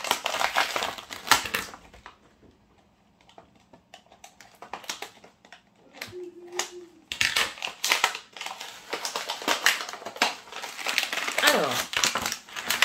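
Close crinkling and tearing of plastic packaging around an inexpensive makeup brush, in bursts with a quieter pause in the middle, then steady rustling; a voice talks over parts of it.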